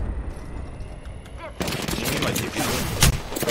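Gunfire crackles in the video game Predator as a player takes shots, with a dense, rapid burst of close weapon fire that starts suddenly midway and builds to a louder hit near the end.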